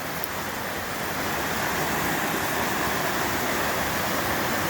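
Steady rushing water from a brook at Dunn's Falls in Maine, a continuous broadband roar that stays close and constant with no voices over it.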